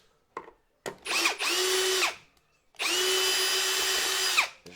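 A power drill backs screws out of a wooden insect hotel in a garden. After a few short taps, two bursts of motor whine of about a second and a half each rise, hold steady close by, then wind down.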